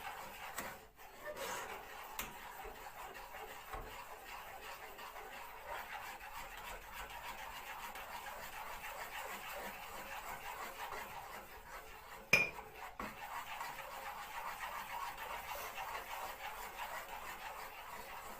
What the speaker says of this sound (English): So just stir it for a couple of minutes. Let's get rid of these lumps, the powder lumps.